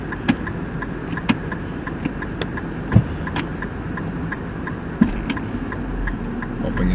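A 2008 Infiniti M sedan idling in reverse with the parking brake set at night, a steady low engine hum close by, punctuated by a few sharp clicks and knocks.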